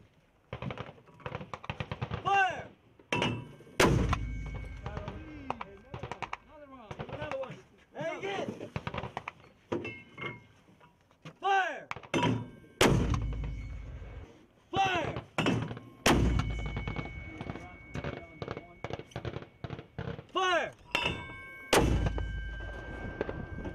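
A U.S. Army M1129 120mm self-propelled armored mortar fires a series of heavy, booming blasts at irregular intervals, with people talking and shouting between and over the shots.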